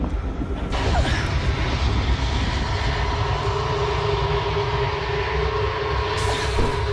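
A luxurious first-class train in a video game rumbles along with a loud, steady low roar and a sustained mechanical hum, the tone shifting slightly near the start and end.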